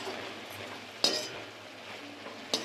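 A spoon stirs spice powder through an ivy gourd (kovakkai) masala stir-fry in a pan, giving a soft frying hiss with two sharp metallic clinks against the pan about a second and a half apart.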